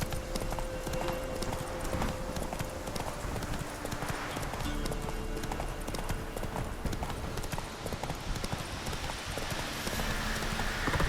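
Hoofbeats of Roach, Geralt's horse in The Witcher 3: Wild Hunt, clopping steadily and continuously throughout, set against game music, ambience and a voice narrating over the top.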